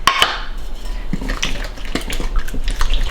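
Flour being mixed into wet bread dough in a bowl, with clinks and scrapes of a utensil against the bowl and soft sticky stirring sounds, close and without talk.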